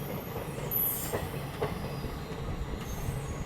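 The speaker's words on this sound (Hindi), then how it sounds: "बिल्कुल ऐसे ही ट्रेन सुस्ती में चलती है" The Howrah-Prayagraj Vibhuti Express rolls slowly and quietly, with a soft rumble of carriages, a brief high wheel squeal and faint rail clicks.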